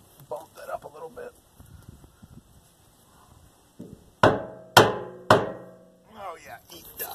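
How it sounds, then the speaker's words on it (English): Hammer blows while fitting the fuel tank on a 1958 Plymouth: three sharp, loud metallic strikes in steady succession, each ringing briefly, preceded by quieter handling noises and low talk. "I do have a hammer here."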